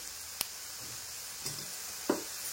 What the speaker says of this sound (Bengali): এইবারে আমি এর মধ্যে দিয়ে দেব বাঁধাকপিগুলো